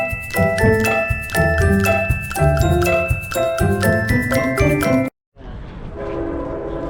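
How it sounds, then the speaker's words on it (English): A train horn sounds with a long steady blare, loud and close, at the Pawtucket/Central Falls station on its opening day, cutting off abruptly before quieter station ambience follows. "Honking in the background."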